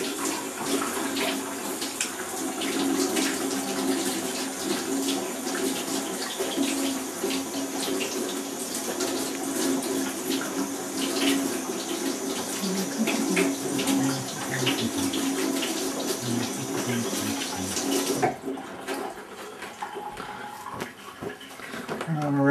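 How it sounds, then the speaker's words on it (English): A kitchen tap runs steadily as bread dough is rinsed off hands, a continuous close splashing stream that stops near the end, with a person talking over it. "I can just rinse my hands like this and they'll get all clean."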